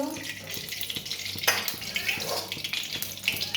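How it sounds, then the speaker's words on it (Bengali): Cauliflower pieces frying in mustard oil in a pan: a steady hiss and sizzle with soft bubbling, close by, punctuated by a few light clinks and stirring. "ফুলকপিগুলো ভেজে নেব"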